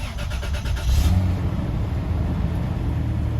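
A 2001-2006 Toyota Tundra V6 cranks briefly and fires up after a battery replacement, surging in a short loud rev before settling into a steady low idle close by. No voices.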